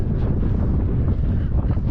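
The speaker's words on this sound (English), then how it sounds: "the wind's blowing offshore towards the Pacific" Offshore Santa Ana wind blowing toward the Pacific, a constant loud low rumble buffeting the microphone throughout.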